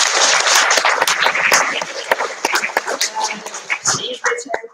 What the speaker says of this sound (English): Again, a big applause for Hinji.